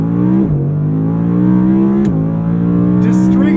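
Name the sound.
Audi R8 V10 engine accelerating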